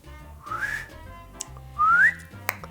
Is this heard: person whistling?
yes